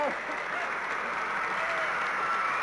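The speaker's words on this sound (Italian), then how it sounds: "applauso, un applauso" Steady, dense applause from a large crowd, continuous and fairly loud throughout with no pauses.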